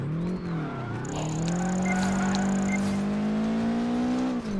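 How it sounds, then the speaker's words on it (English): Race car drifting in Project Gotham Racing 4, a loud sustained engine drone rising in pitch with a long high tire squeal across the middle of the slide. "this car is pretty good at drifting"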